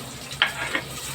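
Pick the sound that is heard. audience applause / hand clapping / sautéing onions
sautéing onions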